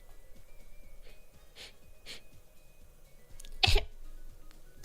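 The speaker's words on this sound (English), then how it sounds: "Let's hear that baby cough." A baby coughs once, a short, sharp burst near the end after a few faint small vocal sounds, close and fairly loud against a quiet background, with no talk.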